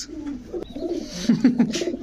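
Army pigeons at a pigeon market let out a few close, soft coos that swell toward the end, with no voices over them.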